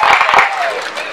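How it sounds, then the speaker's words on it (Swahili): Wedding guests clap and cheer for the groom with bursts of applause and a high wavering ululation rising over the crowd, loud and close, fading slightly toward the end. "makofi na vigelegele vingi kwa bwana harusi"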